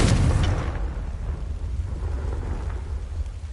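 Confringo fire spell explosion in the Hogwarts Legacy video game: a heavy, booming blast that hits at once and rolls off into a long, low rumble, loud and close with no talking.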